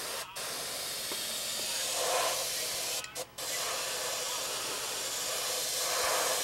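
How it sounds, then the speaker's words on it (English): An airbrush spraying paint indoors in a house, a steady close hiss with two brief breaks where the spray stops, alone without voices. "Now normally I wouldn't spray in a house like this, but we have the ability right now."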